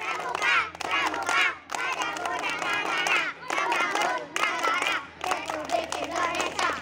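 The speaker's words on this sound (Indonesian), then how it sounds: "Oke, 2 kali tepuk pramuka." A group of young cub scouts doing the rhythmic Pramuka clap twice in a classroom, sharp patterned hand claps mixed with loud chanting voices, close and energetic, in two bursts separated by brief pauses.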